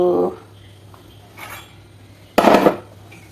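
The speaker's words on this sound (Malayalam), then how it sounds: "കുഞ്ഞി ചട്ടി വെച്ചു" A small metal cooking pot clinks and is set down with a sharp clatter on a gas stove, after a couple of lighter knocks, against a quiet background, while jackfruit payasam is prepared.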